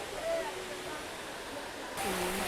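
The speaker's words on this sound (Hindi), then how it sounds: "तो ये वाटरफॉल है, देखो आप, एकदम ऊपर से पानी आ रहा है" A steady, dense rush of falling water pours from high above at a waterfall in Tamhini Ghat's Kundalika Valley, with faint voices of a crowd mixed into the constant roar.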